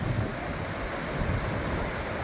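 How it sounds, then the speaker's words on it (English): Water of a main creek near camp on the Bear Lakes Loop in the Sierra rushes steadily, a dense, even broadband roar with some wind buffeting, and no voices. "And here's the main creek."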